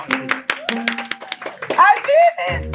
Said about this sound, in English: Clap for the first song.